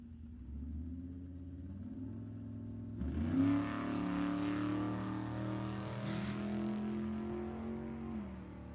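A drag race car at Sacramento Raceway launches with a loud, rising roar that swells and holds steady as it runs down the track, replacing a lower idling rumble heard before the launch.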